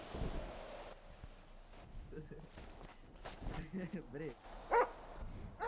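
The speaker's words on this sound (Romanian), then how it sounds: "că sunt câini care mănâncă oameni" Dogs bark and yip in the FiveM video game, short barks and whimpers scattered among footsteps while several voices talk over them.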